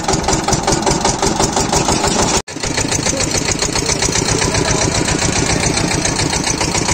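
A diesel engine drives a roadside sugarcane juice machine, running loud and close with a fast, even mechanical chug that cuts out for a split second before carrying on.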